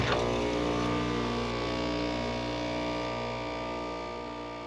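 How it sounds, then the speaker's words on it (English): An air conditioner compressor starting without a soft start on a FlexBoss 21 inverter gives a loud, strained electrical hum with a steady tonal drone that slowly eases off over a few seconds. "let's see if my FlexBoss 21 can start this compressor without a soft start"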